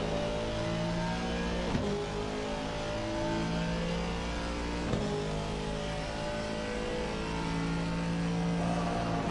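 A race car in the sim racing game Assetto Corsa Competizione at the Red Bull Ring, its engine note rising and dropping with quick blips as it comes down through the gears, sounding steady and fairly close.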